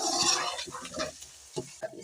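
Whole spices — green cardamom, cinnamon pieces, star anise and bay leaves — sizzling in hot oil in a pot for chicken yakhni pulao, with a steady fry under intermittent scraping stirs and a couple of sharper utensil knocks near the end.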